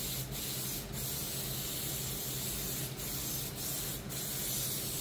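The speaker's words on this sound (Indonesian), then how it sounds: "Untuk penyemprotan primer grey ini kita semprot selapis saja ya lur, jadi biar tidak terlalu tebal." An aerosol spray can lays grey primer onto a wheel rim in a thin, even coat. Steady, close hissing bursts repeat with brief pauses between them over a low background hum.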